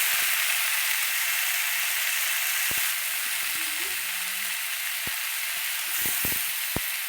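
Vegetables and garlic fry in a pan with a steady bright sizzle throughout, close and even, punctuated by a few sharp clicks and taps of a utensil against the pan.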